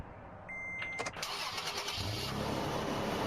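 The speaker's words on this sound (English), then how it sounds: "I'm absolutely going to be restarting the engine" A car engine restarting in a realistic slot car driving game, with a sharp starter crank followed by a steady mid-pitched idle, close and clear.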